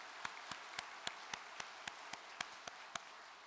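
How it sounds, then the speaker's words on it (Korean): Sparse, quiet clapping at a Korean religious gathering honoring True Mother, about a dozen separate claps in a slow, even rhythm over faint room noise. "온 세계 식구들의 심정과 사정을 살펴주시는 실제 성령 초림 독생녀 참 어머님께 큰 감사의 박수를 올려주시기"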